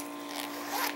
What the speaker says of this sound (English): whatever this is, zipper